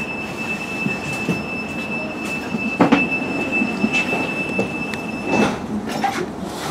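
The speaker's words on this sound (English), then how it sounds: "This is the tram train service to Cathedral." A tram train on the Sheffield service to Cathedral rumbles steadily along the rails with a high electric whine, wheel clatter, and occasional squeals and knocks from the track.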